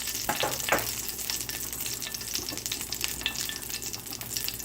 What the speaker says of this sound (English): Garlic is cooking.